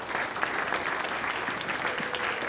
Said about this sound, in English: So can I get a round of applause for ATV